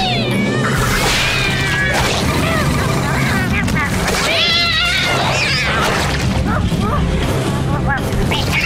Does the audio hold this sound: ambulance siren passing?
no